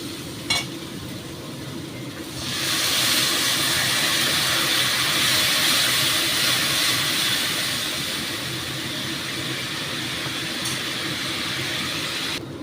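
Water poured onto fried masala for a kohlrabi curry sets off a loud, steady hiss and sizzle that starts abruptly and then settles into a continuous bubbling roar.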